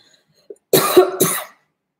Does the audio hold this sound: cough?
yes